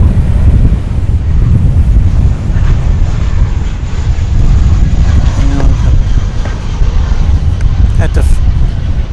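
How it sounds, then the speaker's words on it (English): American Airlines Airbus A320 arriving from Wichita and landing at Dallas Fort Worth airport, a low rumbling jet roar buried under heavy gusting wind buffeting the microphone throughout, with no speech. "American Flight 1038 coming in from Wichita, Kansas. It's an Airbus A320"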